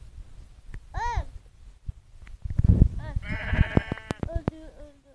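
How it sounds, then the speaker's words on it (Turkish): Sheep bleating in a survival video game, a clear wavering bleat near the start followed by a longer, louder bleat later, mixed with game clicks and thumps. "Dedi koyun öldüreceğim."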